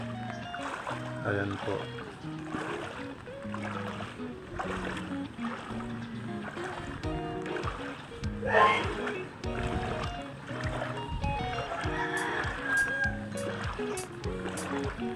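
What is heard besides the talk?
wading through strong flood water current after overnight rain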